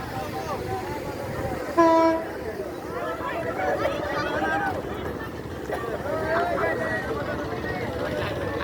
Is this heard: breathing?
no